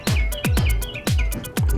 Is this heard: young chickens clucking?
no